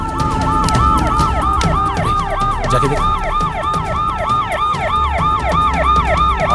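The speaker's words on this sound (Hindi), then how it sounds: "एम्बुलेंस है भाई।" Ambulance siren wailing in a steady, rapid up-and-down cycle, loud and continuous through the whole stretch, with a brief spoken line near the start.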